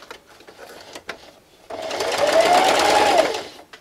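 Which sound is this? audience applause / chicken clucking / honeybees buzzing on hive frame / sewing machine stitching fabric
sewing machine stitching fabric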